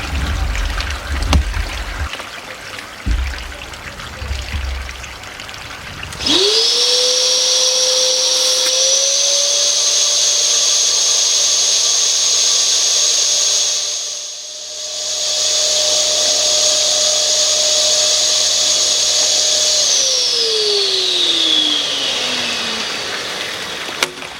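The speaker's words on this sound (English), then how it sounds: "So that's what I'm going to hoover out." A vacuum hoovers dirt out of a murky pool skimmer, starting with a rising whine that holds as a loud, steady drone, dips briefly, then winds down, with gurgling water underneath and no talk.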